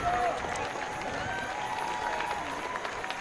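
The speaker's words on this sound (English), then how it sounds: "can hear the crowd going crazy" Distant crowd cheering and clapping in the stands at a high school track and field championship, a steady roar of applause with a whistle-like shout near the start.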